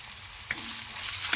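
Dried Bombay duck sautéing with potatoes and salt in a pan gives a soft, steady sizzle with light stirring scrapes, close and fairly quiet throughout.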